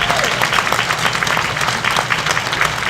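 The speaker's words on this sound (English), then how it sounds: "How about a round of applause?" Steady applause from a crowd at a parish government event honoring a new Eagle Scout, many hands clapping together in a dense, continuous patter that holds at an even level throughout.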